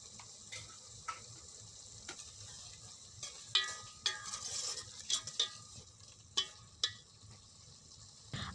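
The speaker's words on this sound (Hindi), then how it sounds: "इनको मसाले में अच्छे से भूनना है।" Tomatoes fry in a masala with coriander powder while a spoon stirs them, giving a soft steady sizzle broken by repeated sharp scraping clicks at close range.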